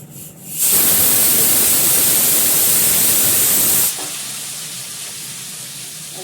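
Cumin seeds and asafoetida hit hot ghee with a sudden loud, steady sizzle that holds for about three seconds before easing into a softer, continuous frying hiss.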